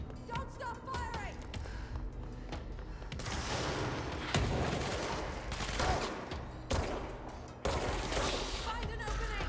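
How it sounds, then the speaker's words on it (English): Dense gunfire from the video game Control, with rapid bursts and continuous shooting through most of the clip, loud and close, as a voice calls out over the action. "Don't stop firing!"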